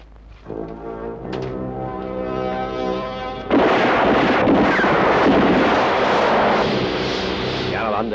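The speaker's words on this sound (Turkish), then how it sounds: "Silah sesini duymuşlardır" Gunfire in an old Yeşilçam Turkish feature film, Aslan Pençesi, erupting as a loud, dense burst of sustained noise that cuts in abruptly over a held brassy musical tone and continues at full strength.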